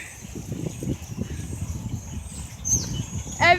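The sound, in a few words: flock of birds calling on a street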